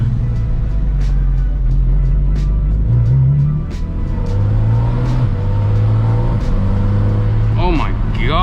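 A 2023 Porsche Cayman GT4 RS engine drones loudly and steadily from inside the car while driving, its pitch stepping up and down through gear changes, with a faster rising sweep of revs near the end.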